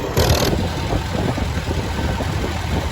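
A Farmall tractor engine runs steadily with a low, rumbling idle, near and continuous, with a brief brighter burst at the start and no voices.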